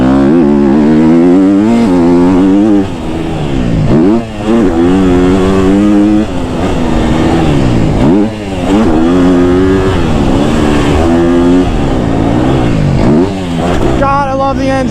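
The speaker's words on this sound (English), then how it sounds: "I love the engine on this bike" A KTM 250 SX-F motocross bike engine revs hard and close on a track, pitch rising and dropping repeatedly through gear changes with a loud, buzzing roar.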